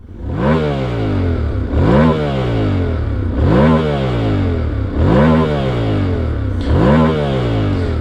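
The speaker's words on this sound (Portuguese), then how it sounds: "E se liga o ronco dessa moto com seu escapamento original." A Yamaha Ténéré motorcycle with its original exhaust revs repeatedly, about five loud, close throttle blips that climb and fall back to a steady engine drone between them, with no talk.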